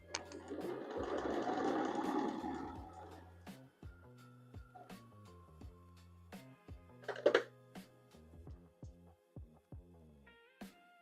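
A sewing machine stitches a quilt pumpkin piece, starting with a few seconds of quiet continuous whirring, then easing into scattered soft mechanical clicks and taps at close range.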